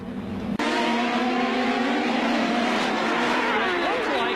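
Open-wheel race cars roar around a track during a crash, a loud sustained engine drone with a sharp break early on, tyre noise and a commentator talking over the din.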